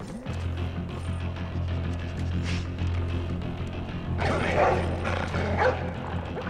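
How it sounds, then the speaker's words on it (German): Several dogs barking and yipping excitedly in Splinter Cell Blacklist, at moderate distance over a steady low hum, with a louder cluster of barks toward the end. "Sind schon ganz außer sich, die Hunde."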